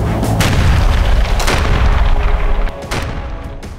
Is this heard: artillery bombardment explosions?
yes